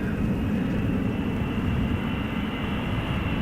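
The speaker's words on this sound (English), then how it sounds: "United Airlines Flight 968. Arriving from San Francisco, 777-200." A United Airlines Boeing 777-200 on arrival at Amsterdam Schiphol Airport gives a steady, heavy engine roar that holds at a constant level and stays fairly loud.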